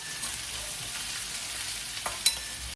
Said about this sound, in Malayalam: ഇനിയിപ്പോൾ ഇളക്കി കൊടുക്കാം.